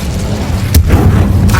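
Incendio fire spell cast in Hogwarts Legacy, a sharp boom-like burst followed by a low rumbling roar and a second bright crack near the end, loud and close.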